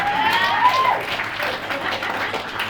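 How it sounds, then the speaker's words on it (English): Comedy club audience applauds a comedian's comeback at a gag night, a loud burst of crowd clapping that tapers slightly, with a brief whistle-like tone near the start. "give him a round of applause for that"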